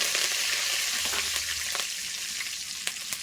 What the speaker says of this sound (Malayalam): അര ടീസ്പൂൺ കടുക് ഇട്ട് കൊടുക്കുവാണ്. 2 തണ്ട് കറിവേപ്പില,